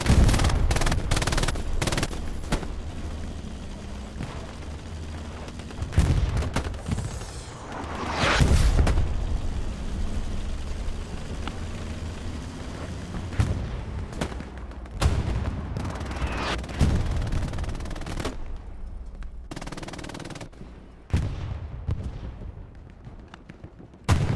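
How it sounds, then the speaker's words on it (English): In Hell Let Loose, a battle at Carentan train station roars with artillery and gunfire: dense rattling rifle and machine-gun volleys punctuated by heavy booming impacts, loud and continuous for over twenty seconds with brief lulls near the end. "Artillery round falls in front."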